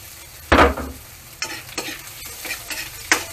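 Garlic and ginger dropped into hot oil in a pan give a loud sizzling burst, followed by several shorter scrapes and sizzles as they are stirred, with no talking.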